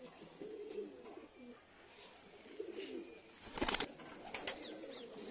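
Soft cooing from a pair of golden bajri pigeons, faint and close, with a brief burst of flapping or rustling midway and quiet voices in the background.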